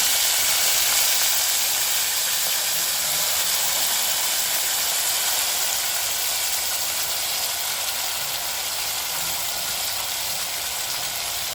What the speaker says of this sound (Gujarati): વઘાર કરી દેવાનો.